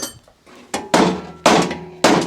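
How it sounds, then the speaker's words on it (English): A rubber mallet strikes the bent crash bar of a motorcycle-damaged Audi R8 three times, each blow a loud, solid thunk with a brief metallic ring, spaced about half a second apart after a few quieter taps. "So let's hit it with a hammer. We'll start with a rubber mallet first."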